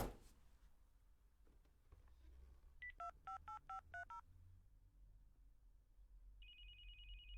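Keypad tones from a cell phone being dialed in the police management video game This Is The Police, a quick run of about seven short beeps followed by a steady ringing tone, faint against a quiet background.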